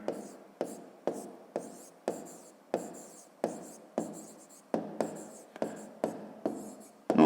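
Pen strokes scratch across paper while a subtraction check is written out by hand for a fifth-grade math exercise: a steady series of short, close, distinct scribbles, about a dozen evenly paced strokes, with no voices.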